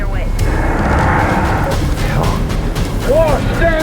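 A big explosion in an action film rolls out as a loud, sustained low rumble and roar with no sharp onset, and a voice talks over it.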